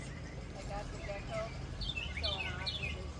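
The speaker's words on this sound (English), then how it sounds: "Do you hear the birds?" Garden birds chirping and tweeting in short scattered calls, moderately close, over a steady outdoor background with faint low rumble.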